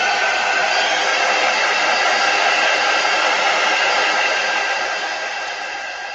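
A hair dryer blows steadily to dry a chalk craft project, a loud, continuous close whoosh with no talking, easing slightly quieter near the end.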